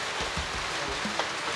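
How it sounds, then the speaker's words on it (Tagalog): Heavy rain pours steadily outdoors during a typhoon at a small farm, a dense continuous hiss with low irregular spatters and drops, fairly quiet overall and without talk. "Malakas ang ulan."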